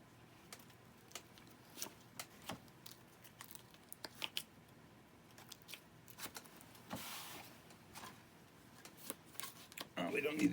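A deck of playing cards is shuffled at a magic show, with repeated crisp riffles, snaps and slides in bursts, heard up close beneath occasional faint talk.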